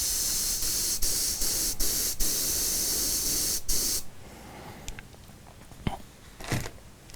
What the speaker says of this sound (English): you can just sit here and airbrush away